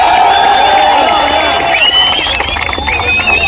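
Crowd noise at a paper leak protest rally, a dense wash of many voices with shouts and whoops rising over one another, loud and continuous throughout.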